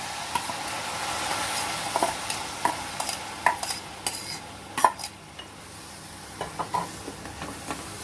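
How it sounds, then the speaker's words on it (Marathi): Spoon scraping and clinking against a pan as rice is stirred in with sautéed vegetables for a quick paneer pulao, with repeated close taps and scrapes over a soft steady sizzle. "आता भाज्या परतून झाल्यात आपण आता हा राईस घालूया"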